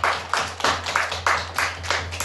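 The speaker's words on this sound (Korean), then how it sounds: "하나님께 감사 박수 한번" A church congregation at Seoul Woori Church clapping during a sermon: evenly spaced claps in a steady rhythm, fairly close and moderately loud, over a constant low hum.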